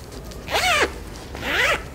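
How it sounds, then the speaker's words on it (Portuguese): A clothing-style zipper is pulled along fabric twice while being fitted into a sewn zip pouch, each pass a short, close, rasping zip separated by a brief pause. "vou com o outro lado encaixar, segurar firme, dar uma reboladinha e o zíper vai entrar"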